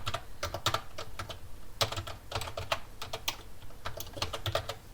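Steady, fast clatter of keys on a computer keyboard as code is typed, close and continuous with no talking.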